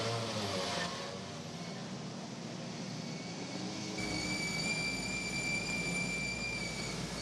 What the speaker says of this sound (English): Cars on the grid in Paul Ricard.